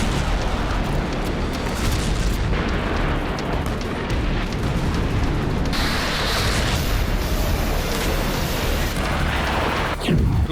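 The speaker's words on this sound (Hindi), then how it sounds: "रूस के कलुगा में कई धमाके सुने गए।" Heavy rumbling explosions in Kaluga, Russia, during a night Ukrainian missile and drone attack roll on continuously, loud and dense, with a sharp crack near the end.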